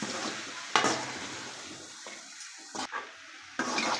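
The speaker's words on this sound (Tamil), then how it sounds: "இப்போ நான் வந்து மசாலாவோட மிக்ஸ் பண்ணிக்கிறேன்." Boiled potatoes stirred into masala in a pan for a potato fry: a soft sizzle with scraping spoon strokes and a few sharper clinks against the pan, close by and with no talking.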